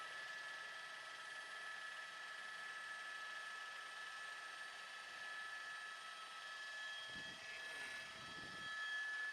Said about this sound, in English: Choppers overhead, choppers overhead,